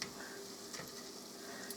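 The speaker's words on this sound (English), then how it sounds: "all I have to do is fry up my donut holes" Donut holes fry in hot oil, a steady soft sizzle and bubbling crackle running continuously at low volume with no talking.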